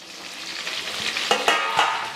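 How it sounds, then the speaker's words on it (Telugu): Green chillies crackle and sizzle as they drop into hot oil for a vegetable chutney, a steady close frying hiss broken by a few sharp spattering pops, with no voices. "నూనె అయితే మరిగిందమ్మా మరి పచ్చిమిరపకాయలు వేసేస్తున్నాను"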